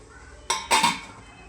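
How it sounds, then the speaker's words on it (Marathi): Two quick metallic clanks of a lid set onto a pressure cooker steaming dhokla, the second slightly longer, in an otherwise quiet kitchen. "आणि आता आपण झाकण लावून घेऊया."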